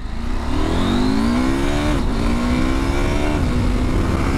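A 2023 KTM 890 SMT motorcycle engine accelerating hard, its loud close revs climbing steadily through a gear change and rising again.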